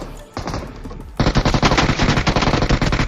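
Enemy gunfire in the mobile battle royale game BGMI: a loud, rapid automatic burst of many closely spaced shots rattling on for about two seconds after a short earlier volley.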